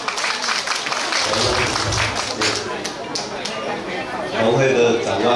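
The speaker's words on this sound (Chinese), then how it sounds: "大家掌声来欢迎一下" Applause rises from the crowd at a farmers' day award ceremony in Guanyin District, Taoyuan, a dense, steady clapping that fills the whole stretch with voices talking over it.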